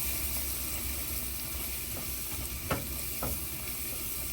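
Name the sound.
spices with chili and cumin powder sizzling while frying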